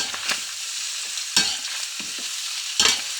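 Paksiw of beef tongue and offal stirred in a pot, with a low continuous simmering hiss broken by three or four sharp scraping stirs of a spoon against the pot, close and alone.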